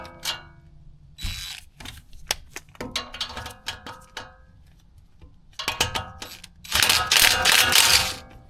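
Bolt work on a brake bracket of a 2006 Toyota Tundra using a 12 millimeter tool: scattered metallic clicks and ratcheting ticks, close and moderately loud, ending in a denser burst of clatter.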